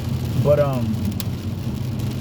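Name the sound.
rain falling outdoors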